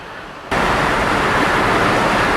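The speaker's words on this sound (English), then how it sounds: "Here's a small waterfall." A small waterfall in Zion National Park, Utah, pours in a loud, steady broadband rush that starts abruptly and then runs unbroken and close by, with no voices.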